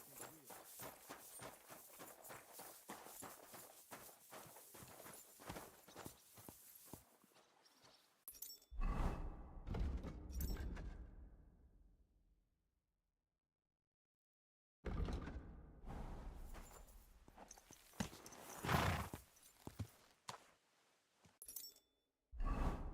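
A horse's hooves clip-clop in a quick, regular rhythm in the video game Kingdom Come: Deliverance II, then stop. A few thuds and a silent gap follow before more scattered hoof and movement sounds resume.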